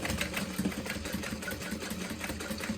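A sewing machine runs back stitches on a Swoon Charlotte City tote bag, a steady fast mechanical whirr with a rapid needle rhythm, close and continuous, no voices.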